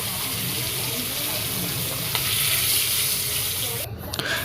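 A kalibaus fish head frying in hot oil in a pan, giving a loud, continuous close-up sizzle with some stirring, briefly dipping near the end before crackling back.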